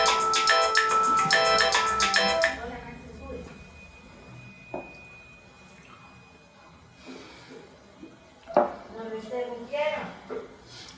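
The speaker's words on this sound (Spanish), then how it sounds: "aquí volvió a sonar tu teléfono" A mobile phone rings with a bright, repeating electronic melody for about two seconds and then stops, followed by quiet room noise, scattered clinks and a person speaking briefly.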